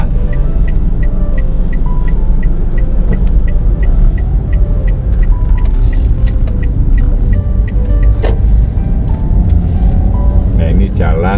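Traffic on Jalan Graha Raya Bintaro as a car waits to cross the road, a loud continuous engine rumble and road hum with a steady ticking indicator and a brief passing whoosh.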